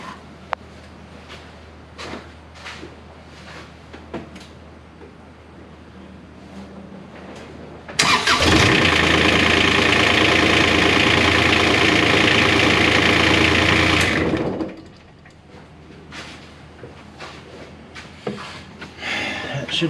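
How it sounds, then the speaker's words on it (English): A Kubota RTV-X900 utility vehicle engine cranks and catches, running loud and steady at idle for several seconds before shutting off, with quieter clatter around it. "We're gonna turn over the engine."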